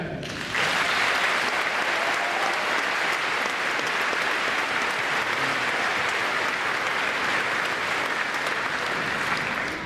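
Sustained, loud applause from a graduation audience for the class of 2017, a dense wash of many hands clapping that rises quickly and holds steady near the listener for the whole stretch.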